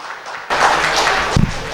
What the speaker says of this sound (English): You got to give yourself a round of applause for that.